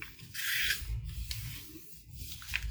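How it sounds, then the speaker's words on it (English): A book page trimmed of its white margins is folded in half by hand, giving soft papery rubbing and rasping as the crease is pressed flat, close and fairly quiet with no talking. "and now I'm going to fold it in half."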